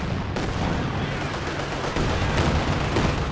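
Heavy mortar and barrage fire rumble across a Company of Heroes 2 battlefield, a dense continuous roar of distant and near explosions with a louder swell toward the end, no voices.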